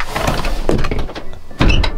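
A car door is opened with a few close mechanical clunks and the rattle of the latch and panel, loud and near, followed by a heavier thunk toward the end.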